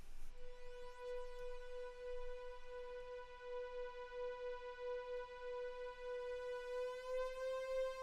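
A steady synth pad holds one rich, harmonically layered tone for about eight seconds, warm and sustained with gentle swells and nothing else around it.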